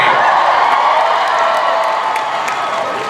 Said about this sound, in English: You're cheering a decade of your life.